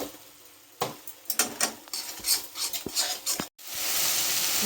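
Ground spice paste, with water, salt and tomato added, is fried for a Bengali pomfret curry in oil. A spoon scrapes and clatters against the pan in uneven strokes over a soft sizzle, and a steady hiss swells at the end.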